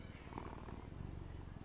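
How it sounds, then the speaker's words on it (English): A cat purrs softly in the video game Dragon Age: The Veilguard, a faint, steady low rumble with a gentle pulsing rhythm, close and unbroken, with no voices. "this cat is more important than Ilario."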